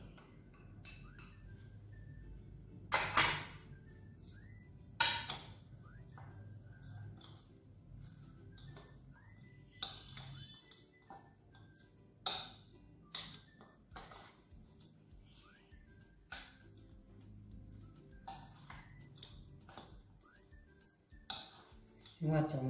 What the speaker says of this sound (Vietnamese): Chúng ta trộn khoảng một vài phút cho gia vị thấm các bạn